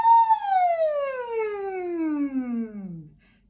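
A single voice imitates a siren, sliding smoothly from a high pitch down to a low one over about three seconds.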